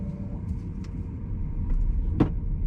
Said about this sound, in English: Okay, so driving the BMW 225XE, let's get going.